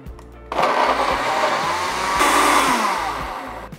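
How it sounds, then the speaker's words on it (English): A blender whirs loudly through tomatoes with water and a touch of oil, starting abruptly after a brief quiet moment and holding a steady, dense motor roar before cutting off near the end. "So we've got a nice blend of these tomatoes"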